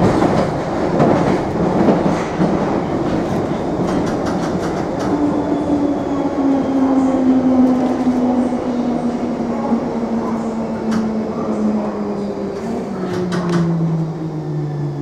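A London Underground Bakerloo line 1972 stock train runs between Harrow & Wealdstone and Wembley Central, giving a continuous loud rumble with rhythmic clickety-clack from the wheels and a rising then falling motor whine.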